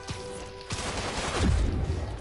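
Gunman's gunfire in Marvel's Spider-Man, a short burst of sharp cracks and a low boom against game background noise, fairly near and loud.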